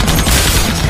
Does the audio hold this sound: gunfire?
yes